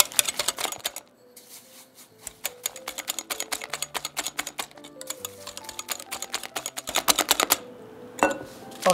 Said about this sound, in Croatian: Dodajemo pomalo i mutimo.